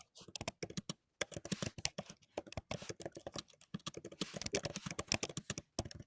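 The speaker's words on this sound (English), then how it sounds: "Wow, you're a fast typer." Fast typing on a computer keyboard, dense close rapid key clicks in bursts with short pauses, while people talk over it during an interview.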